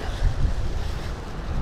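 Waves and wind at Xinfeng seaside make a dense, continuous wash of surf over blustery gusts that thump the microphone, with no talking.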